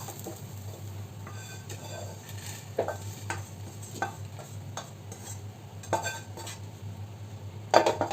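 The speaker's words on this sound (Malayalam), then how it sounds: "ഇതേ ചട്ടിയിലേക്ക് തന്നെ നമുക്ക് ആ ഉണക്കച്ചെമ്മീനും ഒന്ന് ചേർത്ത് കൊടുക്കാം. ഇതും ഒന്ന് നന്നായിട്ട് വറുത്തെടുക്കണം." Dried prawns are dry-roasted in a pan, heard as a quiet, faint sizzle with a metal spatula repeatedly scraping and clinking against the pan in irregular strokes, and no talking.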